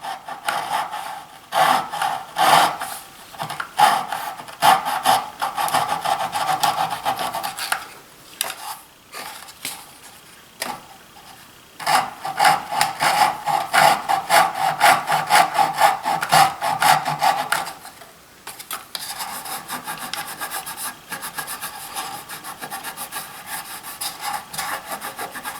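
A hand saw cuts joints in wood for a jewelry box, with close, rhythmic rasping strokes in long runs, brief pauses between them, and a lighter scraping passage near the end.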